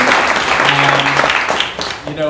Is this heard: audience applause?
yes